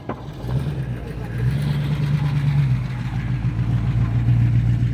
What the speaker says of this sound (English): This is our newest, latest and greatest fire engine